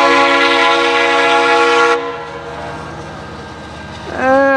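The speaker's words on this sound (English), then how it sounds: "I love that horn." A Norfolk Southern locomotive horn sounds a loud, sustained multi-chime blast for about two seconds, then cuts off, leaving the low rumble of the passing train; a second horn note starts again near the end.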